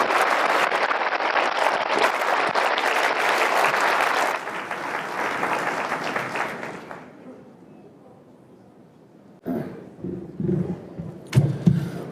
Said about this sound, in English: let's give Bill Barr another round of applause